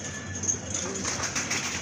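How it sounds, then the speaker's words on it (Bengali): A female pigeon at a pigeon seller's coos softly, a low murmuring call close by against a noisy background hiss, with faint human voices around. "এটা হচ্ছে আপনার মাদি কবুতর।"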